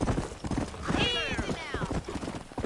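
Horse hooves clopping at a gallop in the video game Red Dead Redemption, a rhythmic thudding mixed with a whinny in the middle, with someone talking over it.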